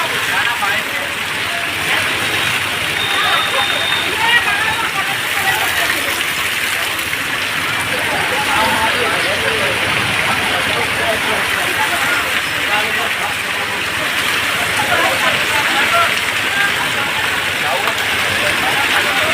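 Heavy rain pours down steadily in Chhapi village, a dense continuous hiss of downpour on surfaces lasting throughout, with a faint engine hum underneath.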